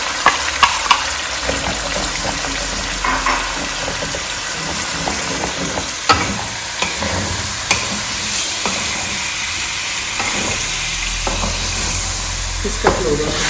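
A paste of ginger, garlic, tomato and green chili frying in oil for a village-style chicken curry, a steady close sizzle and hiss with scattered stirring clatter throughout.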